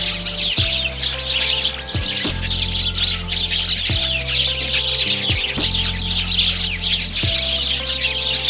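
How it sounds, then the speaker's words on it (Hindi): A myna, or starling, calls in a dense run of quick, bright chirps and whistles, loud and close, continuing without pause over a low tonal background. "ये है मैना। मैना को इंग्लिश में स्टारलिंग कहते हैं।"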